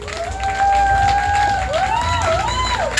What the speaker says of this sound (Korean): 박수죠 박수 이럴 때